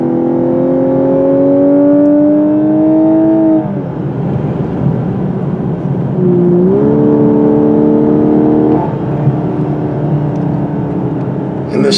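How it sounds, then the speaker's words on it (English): Exhaust of a 2022 Lexus LC500h hybrid in sport mode, heard from inside while driving: a loud, steady engine drone that climbs in pitch through two rising pulls, broken by a brief dip as it shifts, over constant road rumble. "I noticed when I put it in the sport mode, it sounds a lot louder on the exhaust tips."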